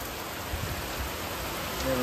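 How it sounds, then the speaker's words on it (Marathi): Constant hiss of heavy, unseasonal night rain falling, even and unbroken, with a faint tonal hum near the end. "अचानक आणि भयानक पाऊस झाला आता, आणि मुसळधार पाऊस बोलता येईल हा देखील."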